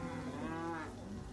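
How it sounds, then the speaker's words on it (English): Cattle low in a long, loud moo with steady harmonic tone, heard close and alone during flooding as the herd swims toward a farmhouse front yard. "Elaine and Darcy feared their cattle would be lost until some came swimming up to the front yard."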